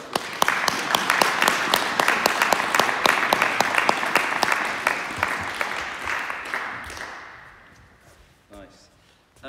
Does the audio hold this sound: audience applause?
yes